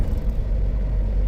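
A car under way, a father's car driven with an uncle at the wheel, giving a steady low engine and road rumble from inside the vehicle, continuous and fairly loud with no talking.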